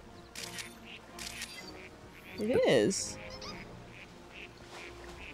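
Birds squawk and quack in Pokemon Snap, a burst of agitated calls rising briefly near the middle over steady game ambience, with a person talking around it.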